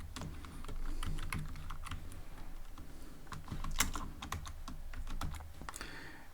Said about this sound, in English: I'm gonna type while